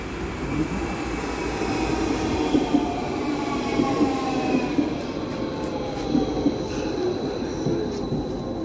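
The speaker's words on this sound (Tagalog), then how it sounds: "Yun na yung tren." A train rumbles steadily past in snowy weather, a continuous loud roar of wheels on rails with faint metallic squeals drifting above it.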